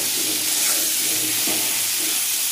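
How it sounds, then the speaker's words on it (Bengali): Salted, turmeric-coated potatoes fry in a pan, giving a steady, loud sizzling hiss with a few soft stirring scrapes. "এবার আলুগুলোকে লাল লাল করে ভেজে নেব"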